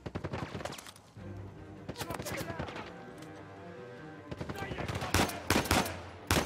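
Gunfire in the video game Uncharted 4, in clustered bursts of rapid shots at the start, middle and end, over a continuous game soundscape, with a voice faintly under the mix.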